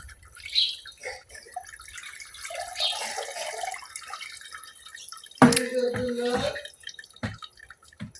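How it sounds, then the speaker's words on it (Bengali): Boiled noodles rinsed in cold water for a village-style vegetable noodle dish: quiet drips and trickles, then a short burst of running water and splashing midway, with faint background sounds around it. "নুডলস গুলা চুলা থেকে নামানোর পরে কিন্তু হালকা একটু ঠান্ডা পানিতে ধুয়ে নিতে হইব,"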